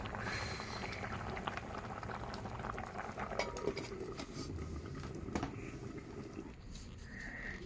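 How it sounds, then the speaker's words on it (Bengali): Vegetables simmer in a cooking pot, a steady soft bubbling and hiss that runs throughout with a few faint utensil clinks near the middle. "সবজিগুলো সিদ্ধ হয়ে যাচ্ছে এভাবেই"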